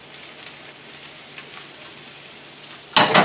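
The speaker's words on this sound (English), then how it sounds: "my garlic and my shallots are cooking" Garlic and shallots frying in a pan give off a faint, steady sizzle and crackle throughout, followed at the end by a sudden loud burst as more food hits the pan.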